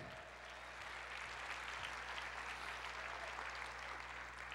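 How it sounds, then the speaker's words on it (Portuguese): Church congregation applauding during a Portuguese-language sermon, a steady sustained wash of clapping at moderate distance with a constant low hum underneath. "Aplauda o Senhor,"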